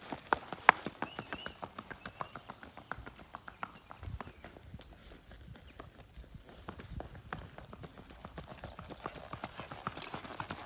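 A gaited horse, a mare, walks with a steady, even clip-clop of hooves, close and moderately quiet over a long stretch with a faint voice now and then.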